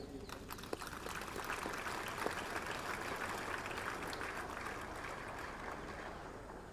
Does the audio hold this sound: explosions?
no